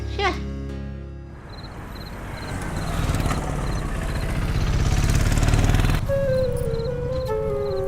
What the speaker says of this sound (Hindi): ए धर्मा, अरे बाइक ले जा यार